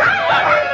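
Small dogs barking and yipping continuously, loud and close, in a dense overlapping chorus with no pauses, set in a 1950 comedy film scene.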